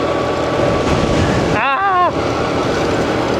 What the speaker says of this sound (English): And very windy, and there's a lot of sand in the wind.